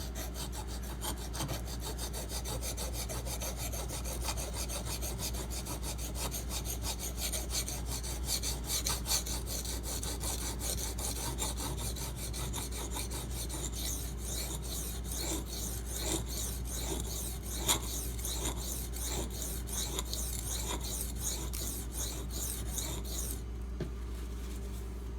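A knife blade is sharpened on a Kyoto 150 whetstone, a steady rhythmic rasping of steel stroked back and forth across the stone, close and continuous, stopping just before the end.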